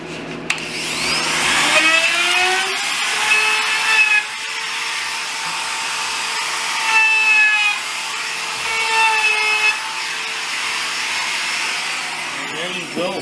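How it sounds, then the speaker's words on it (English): A router trims the edges of a wooden sofa table in a workshop, its loud whine spinning up, then holding steady with shifting pitch as it cuts along the edge before winding down at the end. "I'm going to router off the edges."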